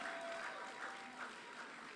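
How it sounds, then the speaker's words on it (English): Audience applause fills a business and career expo hall after a speaker is introduced, a steady, fairly soft wash of many hands clapping with no pauses. "A round of applause for her."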